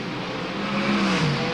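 Speedway race cars lapping the track at Wagga Wagga, a continuous dense engine roar with a rising and falling engine tone, heard at a distance without talk.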